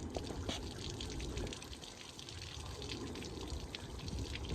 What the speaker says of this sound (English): there goes the coolant coming out of the header tank